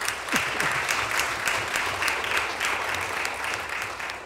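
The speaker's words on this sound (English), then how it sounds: "All right, you can applaud." An audience at a city council meeting claps for a high school basketball team's state sectional championship, a brief, even burst of steady applause.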